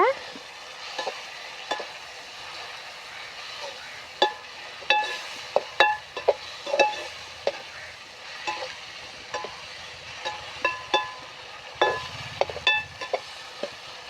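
Ginger garlic paste sizzles in hot oil in a pan during green pea biryani cooking, with a steady frying hiss and repeated sharp scrapes and clicks of a spoon stirring against the pan, close and fairly loud, with no talking.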